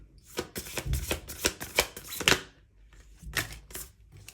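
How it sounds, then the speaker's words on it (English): Crisp riffling bursts of tarot cards being shuffled, a rapid flurry of snaps followed by a short pause and a few more shuffles, close and fairly soft. "I'm just going to shuffle again."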